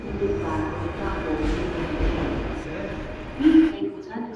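Paris metro train rumbling along its track in a steady low roar, with a louder clattering surge near the end, while people talk over it.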